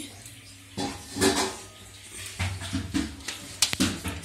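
Sour yogurt and ginger-garlic paste tipped into a cooking pot of washed chicken for biryani, heard as a few soft clinks and scrapes of spoon against metal, close and intermittent in a quiet kitchen.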